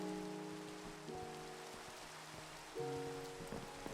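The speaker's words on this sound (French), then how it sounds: "On est obligé de se taper la pluie." Steady rain pattering in Minecraft, a soft continuous hiss of drops that stays faint alone, with brief plucked game tones over it.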